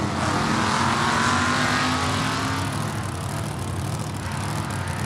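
A 1965 Mercury Comet Caliente funny car with big block Chevy power roars down a drag strip in loud, sustained engine noise, the pitch climbing and dropping as it shifts through the gears before fading slightly.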